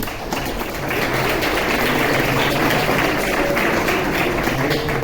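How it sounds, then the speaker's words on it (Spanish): Audience applause at a Mandela Day event held in the CaixaForum Macaya hall in Barcelona, a steady, dense clapping that holds at a constant level throughout without voices over it. "Un aplauso para Audi Norris"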